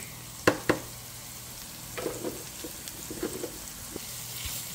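Jeera and turmeric frying dry in a pot while being stirred, a soft continuous sizzle with two sharp knocks early and light scraping taps and crackles throughout.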